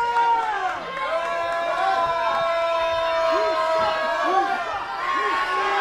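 A wrestling crowd roars and jeers at a live pro wrestling show in Alaska, loud, sustained noise with an announcer's voice talking over it throughout.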